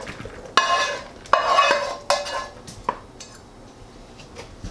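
A spoon works sausage into a blended cream cheese and cheese mixture, making several sharp clinks against the bowl and soft squishing stirs, close and fairly loud, with no talk.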